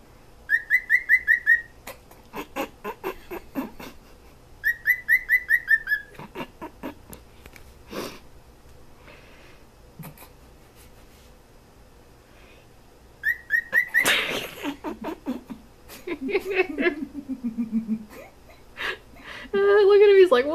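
A cockatiel sings to a feather, repeating bursts of warbling whistles and chirps with pauses between, close and fairly loud, while people laugh and talk quietly in the background.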